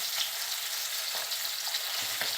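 Rohu fish frying in a pan gives a steady, close, crackling sizzle throughout, with a few soft stirring knocks and no voices.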